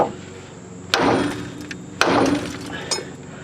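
A bigger hammer strikes a ball joint on a Chevrolet TrailBlazer's suspension, two sharp metallic bangs about a second apart with ringing decay, then a lighter tap.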